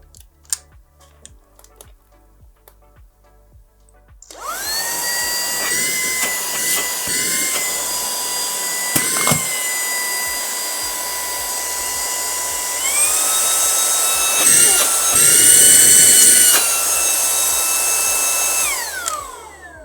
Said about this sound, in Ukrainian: Зараз давайте увімкнемо і послухаємо, як буде працювати пилосос.